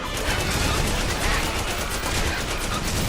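Video game gunfire rattles in a dense, continuous loud barrage of rapid shots, with no voices over it.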